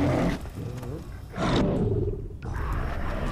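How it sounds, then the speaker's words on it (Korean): Growling, roaring wolves at a wolf den in the Far Cry Primal video game, with two loud, rough bursts of snarling close by and no talk over them. "늑대들이 나오고 있어요. 이건 늑대굴입니다."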